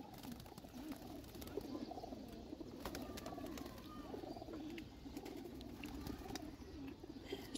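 Pigeons in a loft give faint, soft, repeated low coos against a quiet background.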